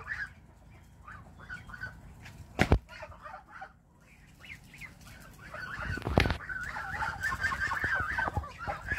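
Geese honk and cackle repeatedly nearby, growing louder and more frantic toward the end, with occasional thumps and rustling.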